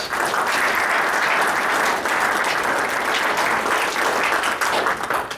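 An audience at Tabor College bursts into sustained, loud applause welcoming speaker Neil Bontrager, thick, even clapping that fills the whole stretch before tapering at the end, with no speech over it.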